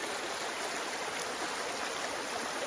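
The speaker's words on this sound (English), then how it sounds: "It's just such a nice little creek here." A small mountain creek in winter wilderness gives off a soft, constant hiss of flowing water, heard alone and fairly quiet.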